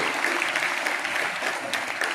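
Schoolchildren applaud together at a Teachers' Day event in a school, a dense wash of many hands clapping steadily for a couple of seconds.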